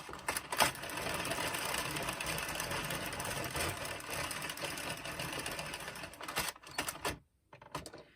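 A hand-cranked circular knitting machine in flat panel mode runs in a rapid rattling clatter of needles for several seconds, close and fairly steady, then slows, stops and goes quiet near the end, with no talking.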